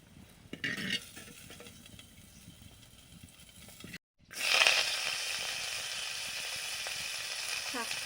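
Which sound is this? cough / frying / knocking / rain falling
frying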